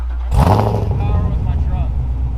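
A 2017 Camaro SS engine revs hard on a dyno, a loud, close roar that jumps in suddenly and holds steady with a rough, pulsing drone.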